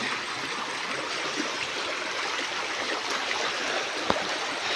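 River water rushes steadily and continuously, a dense close wash of a river running full, with no voices.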